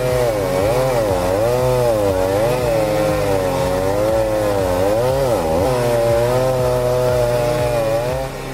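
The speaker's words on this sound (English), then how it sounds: "call the chainsaws. Piece by piece, they cut the weight off the roof" Chainsaws roar steadily while cutting up a fallen tree lying on a van roof in the forest, loud and continuous with shifting engine pitch as the blades bite.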